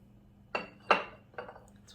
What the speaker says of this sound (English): I think I'm going to put it in a smaller bowl.